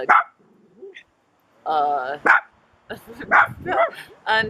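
Several dogs bark and yip in short close bursts, mixed with a person talking over them.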